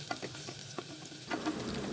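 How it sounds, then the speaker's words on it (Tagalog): Onions and garlic sautéing in hot oil while being stirred, a steady soft sizzle with light scraping strokes of a spoon against the pan, close and continuous. "Magpapainit muna tayo ng oil. Pag mainit na, ilagay na natin ang ating onions."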